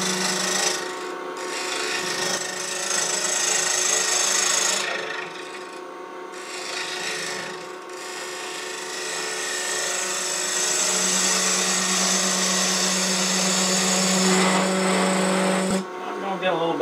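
Wood lathe turning a wooden cube as a gouge makes a slicing entry cut, a steady whirring hum with rough scraping and rasping of the tool against the spinning block, intermittent as the cut starts and stops.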